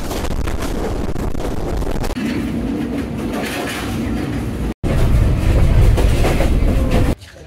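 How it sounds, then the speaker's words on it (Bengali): Rangpur Express train arriving at a station, heard as a loud, close, steady roar of rolling wheels and rattling carriages with rhythmic clatter and wind buffeting, cut by a brief gap near the end, with no talking. "আসছে রংপুর এক্সপ্রেস 3000।"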